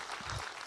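An audience claps steadily at a keynote talk, a dense wash of applause heard in a brief snatch, with a faint low voice underneath.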